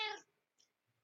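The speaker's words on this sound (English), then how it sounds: "You all hear my kitty cat meowing" A pet cat lets out one loud, close meow lasting a fraction of a second, then a brief faint chirp follows in near silence.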